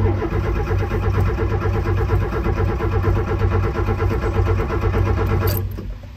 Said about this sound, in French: En tout cas, le moteur il tourne bien.